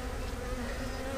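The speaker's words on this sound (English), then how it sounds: "There's plenty of bees in this colony." Honey bees drone in a dense, continuous buzz at an open hive during a brood box inspection, close and steady with no talking.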